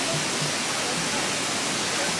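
A small waterfall at St. Nectan's Glen in Cornwall gives off a steady, broadband rushing of falling water, continuous and fairly close.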